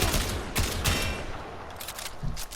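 Tiberon Prime rifle firing full-auto in Warframe, a steady rapid stream of shots running the whole time, fairly loud and dense with no talking over it.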